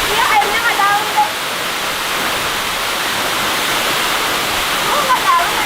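Jagasatru waterfall in Bali roars as a steady, loud wash of falling water close by, continuous throughout with brief faint voices in the background.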